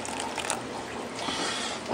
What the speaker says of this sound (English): Put a little bit of water in there.